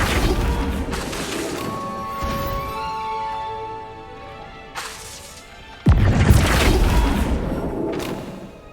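A Flipendo spell cast in the Hogwarts Legacy video game greenhouse lands with a sharp, loud smash-like impact and a booming burst, following quieter magical whooshing and shimmering tones.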